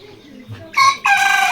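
Hens at a Bangladeshi poultry farm kept as parent stock, with native and layer birds, give soft low clucks, then two loud, close bursts of cackling or crowing that fill the second half of the short stretch.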